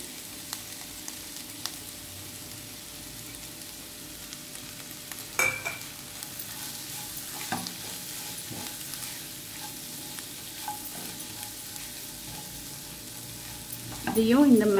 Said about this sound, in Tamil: இதையும் இந்த மிளகாய் பொடி மஞ்சள் பொடியோட நல்லா வதக்கிடலாம்.